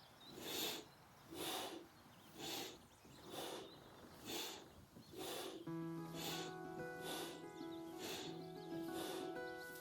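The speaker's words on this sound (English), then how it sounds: "Inhale to the left, exhale right, whichever you feel more comfortable with." Slow nasal breaths in alternate nostril breathing, inhaling through the left and exhaling through the right, with five or six soft rhythmic breaths. Steady tonal music enters partway through and continues beneath the breathing.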